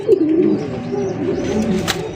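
Fancy pigeons, including Damascene birds, give deep, rolling coos up close in a continuous stretch, with no voices over them.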